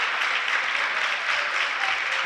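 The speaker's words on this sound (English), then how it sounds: "Added applause for Cody Rochelow," Continued gym applause for a high school basketball player, including from teammates on the bench, a steady wash of many hands clapping at moderate loudness for a couple of seconds.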